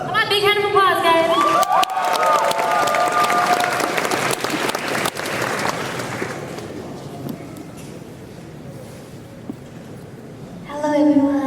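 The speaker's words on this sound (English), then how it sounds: "Come on, big hand of applause," An audience at an idol performance event bursts into loud applause and cheering, with claps and whoops that fade down over several seconds, then a voice begins speaking.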